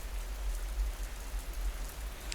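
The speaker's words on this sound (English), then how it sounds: "As the first droplets of rain fall from the grey sky" Soft rain falls steadily in the grey Cotswolds countryside, first droplets pattering as a low, even hiss close by, with no other sounds.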